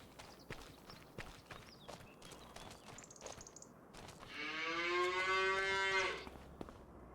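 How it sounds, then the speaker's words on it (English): A cow lets out one long, loud, drawn-out moo on a homestead farm in a survival game, preceded by scattered hoof clops and light footsteps, with no talking. "Let's check on the cattle."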